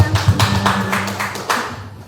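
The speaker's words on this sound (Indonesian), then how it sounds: "Tepuk tangan tuh Bu Risna." A handful of claps in an uneven burst, some quick and some spaced, fairly close, fading out at the end.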